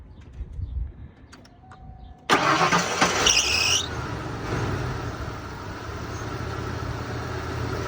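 A 1991 Mercury Grand Marquis cranks and fires up after a quiet outdoor lull, with a loud high belt squeal for about two seconds, then settles into a steady idle.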